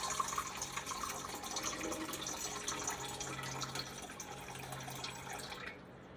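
Warm filtered water runs steadily into a container for sourdough, a continuous splashing fill for several seconds that cuts off near the end.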